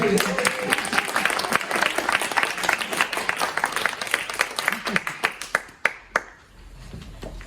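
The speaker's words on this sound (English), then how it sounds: "Big round of applause for Princess." An audience applauds a child at a music rhythm class, a dense burst of clapping that thins into scattered individual claps and fades out near the end.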